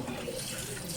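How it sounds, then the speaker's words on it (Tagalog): Water splashing and sprinkling while an electric fan is being cleaned by hand, a steady close wash of watery spatter lasting about a second, fairly quiet. "iwisik mo na lang yung tubig dyan"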